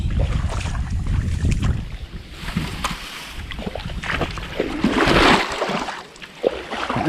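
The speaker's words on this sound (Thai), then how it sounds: "ตัวนี้ลมครับผม" Wind gusts across a fish pond and buffets the microphone in rough, uneven surges, loudest near the end, with water and rustling underneath.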